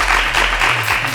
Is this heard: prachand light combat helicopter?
no